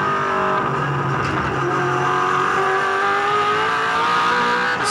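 Craig Lowndes' 2007 V8 Supercar at Oran Park, heard onboard: a loud, continuous V8 engine roar at high revs, its pitch holding steady with slight shifts as the car races in the pack.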